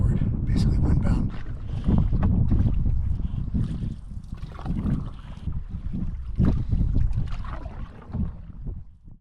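Strong gusty wind buffeting a canoe out on a lake, heavy rumbling blasts that surge and ease in uneven waves, loud and close on the microphone with faint splashing underneath.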